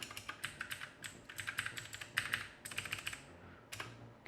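A discarded computer keyboard with faulty keys gets tested, its keys pressed in quick irregular bursts of clicky taps, close and quiet, with no talking.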